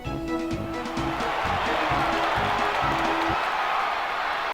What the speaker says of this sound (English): they got more applause